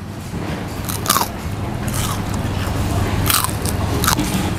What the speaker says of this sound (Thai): เดี๋ยวเราจะมาลองดูว่าหมูกรอบจะกรอบขนาดไหนนะครับเดี๋ยวลองมาฟังเสียงกันนะครับ